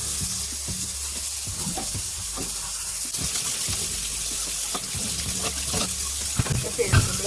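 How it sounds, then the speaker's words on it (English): Water runs steadily from a kitchen tap while a sink is washed out, a continuous close hiss with small splashes and clatters scattered through it. "now we're just washing out the sink to get down to other business"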